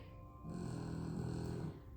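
A dog snoring close by in a quiet room during a yoga class, one long rumbling breath heard on its own.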